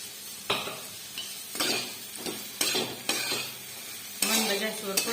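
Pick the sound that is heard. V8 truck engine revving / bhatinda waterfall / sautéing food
sautéing food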